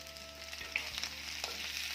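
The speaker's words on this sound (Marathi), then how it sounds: "तर छान साधारणतः गोल्डन रंग येईपर्यंत हे बटाटे तेलामध्ये परतून घ्यायचे आहेत" Potato pieces frying in hot oil until golden, a brief close sizzle with soft bubbling crackle and a couple of small pops, alone without speech.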